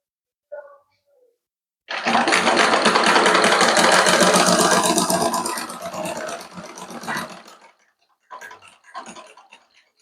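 An electric sewing machine stitching two layers of blouse fabric, one sustained buzzing run of about five seconds that slows at the end, with short clicks and a brief second run afterward.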